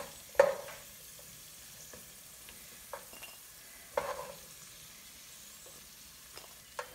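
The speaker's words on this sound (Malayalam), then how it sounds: "തീ കുറച്ചിട്ട് വേണം അണ്ടിപ്പരിപ്പ് മുന്തിരിങ്ങയും വറുത്ത് കോരാൻ, ഇല്ലെങ്കിൽ കരിഞ്ഞു പോകും." Cashews and raisins frying in a pan over low heat, a faint sizzle broken by a few sharp clinks and stirring scrapes spaced several seconds apart.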